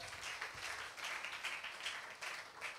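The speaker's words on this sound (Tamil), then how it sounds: "கைத்தட்டி." A church congregation at a worship service claps together, a soft, distant patter of many hands keeping an even rhythm with no voices over it.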